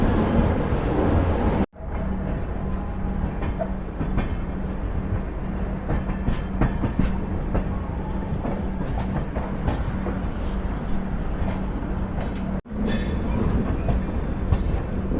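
The Janmabhoomi Superfast Express, train 12806, runs on rails after leaving Guntur station, heard from on board as a loud, steady rumble with rhythmic clicking of wheels over rail joints, cut by two abrupt breaks in the sound.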